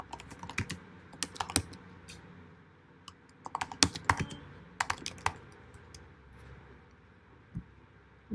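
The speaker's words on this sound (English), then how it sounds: "just type some dummy values over here" Dummy text being typed on a computer keyboard while designing in Figma, heard as close, crisp key clicks in irregular bursts with short pauses between, alone without any talk.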